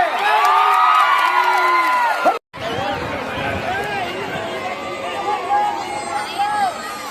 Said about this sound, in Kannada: ಒಂದು ಚಪ್ಪಾಳೆ